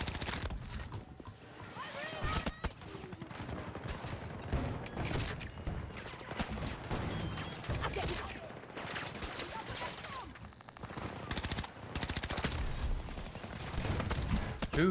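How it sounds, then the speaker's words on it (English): Dense, continuous gunfire from Battlefield 2042 on the Stadium map, with rapid bursts and booms layered throughout and a player's voice talking over the shooting. "Who is shooting me?"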